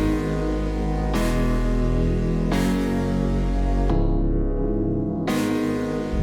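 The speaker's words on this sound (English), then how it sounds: "With piano, it sounds like this." Piano chords layered into a dancefloor drum and bass drop built with a Serum factory preset, sustained harmonic stabs changing every second or so over a loud, dense mix with heavy bass.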